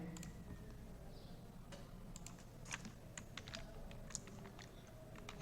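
Rapid, uneven clicking of a computer keyboard as CSS styling code is typed, with dense irregular keystrokes close by over a low background hum and no talking.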